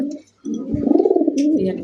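Large racer pigeons, a breeding pair with eggs, coo in a low rolling burble close by, one steady throaty call swelling after a brief pause, with a faint chirp high above.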